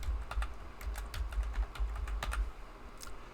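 Quick bursts of keystrokes on a computer keyboard as an email address is typed, close-up irregular clicks in short clusters over a low background rumble, with no speech.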